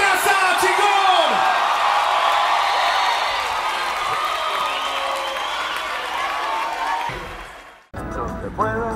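Concert crowd applauding and whooping, loud and sustained for several seconds before fading and cutting off abruptly, followed by a brief burst of voices.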